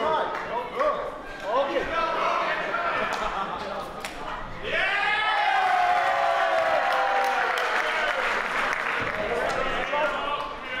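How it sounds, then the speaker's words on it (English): A live wrestling crowd applauds the wrestler Oliwa with sustained clapping and cheering, a dense, steady roar that swells partway through, while an announcer talks over it. "Oliwa getting much more of a round of applause, much more of a warm reception than Sultanov"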